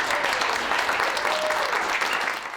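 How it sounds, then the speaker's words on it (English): Virtual audience applause greets Lindsey as she is brought up to give a talk, a dense, continuous sheet of clapping that holds steady throughout and dips slightly at the end. "Give her a big virtual round of applause"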